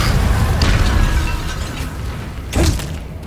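An Incendio fire spell cast in Hogwarts Legacy, a loud rushing fiery blast that swells and churns, with a second sharp burst and whoosh near the end, amid dense game effects.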